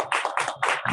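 An audience at a women's day club meeting in Mumbai claps for a member, a short burst of several close, quick claps in uneven rhythm with no talking.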